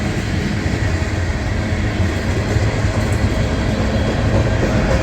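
A CSX freight train rolls steadily past in Maryland's Patapsco Valley, a loud continuous rumble of wagons with faint clickety-clack from the rails and no pause throughout.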